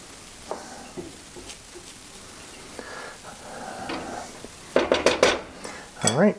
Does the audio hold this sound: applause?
no